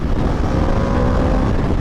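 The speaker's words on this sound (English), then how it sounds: "the RSV4 has an amazing soundtrack coming out of the exhaust here" A loud, steady engine roar with deep rumbling harmonics and buffeting wind from a 2026 Aprilia RSV4 Factory 1100 V4 sport motorcycle exhaust at speed, continuous and close throughout.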